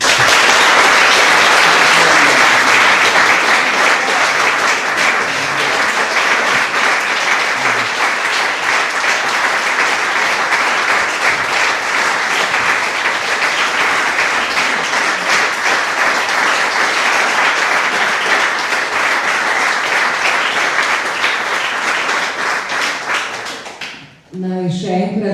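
A concert audience in a culture hall applauds choir singers, dense sustained clapping from a large crowd filling the whole stretch, loud and even, fading briefly near the end as a voice and other sounds come in.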